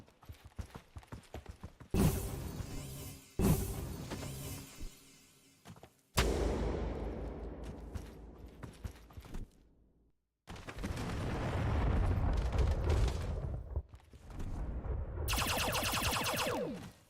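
Gunfire from the Crayta video game: sharp bursts of shots and blasts in several separate stretches, with clattering mechanical sounds and a sustained rumbling passage, loud and close with no talking.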